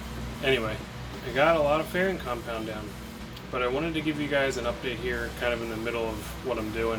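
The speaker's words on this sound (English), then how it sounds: "Sorry about the fan noise again." A fan runs in a workshop where boat deck fairing compound is being applied, giving a steady low hum throughout beneath someone talking continuously.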